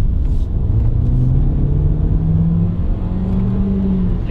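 Chevrolet Cruze Turbo car accelerating hard, a loud, deep engine drone rising steadily in pitch from inside the cabin, continuous with no talk.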